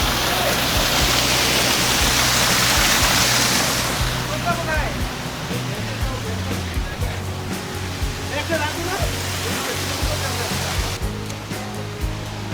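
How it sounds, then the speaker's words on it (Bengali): A waterfall near a river camp in Kalimpong, a loud continuous roar and wash of falling water that eases slightly after the first few seconds, with faint voices in the background. "এই যে ঝর্ণা"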